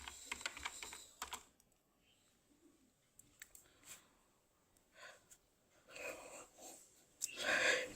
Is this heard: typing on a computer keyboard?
yes